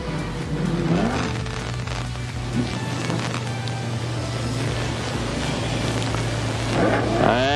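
Super sedan race cars at Maryborough Speedway hold a steady, loud engine roar throughout, with revving swells as the pack passes side by side.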